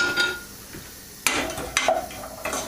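Onions dropped into hot light olive oil in a pan, a few sharp clattering hits and stirring scrapes over a quiet sizzle, close and clear.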